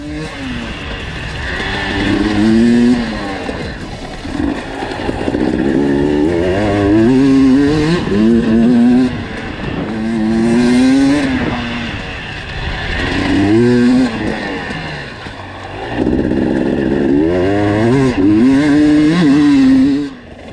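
Dirt bikes ridden on a private dirt track, engines revving hard and falling off in repeated rising sweeps, loud and close, with riders passing continuously and no talk over them.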